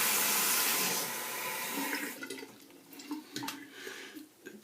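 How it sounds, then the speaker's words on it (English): Running water rinses after a shave with a Merkur HD 37c slant razor, a broad steady gush that thins into splashes and drips, close by and moderate in volume. "And an extra rinse to get it off"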